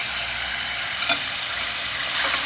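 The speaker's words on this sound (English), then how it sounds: "sear the meat for a while, and once it becomes a little browned" Meat searing in a hot pan, a loud, dense sizzle that holds steady and close throughout with no voices over it.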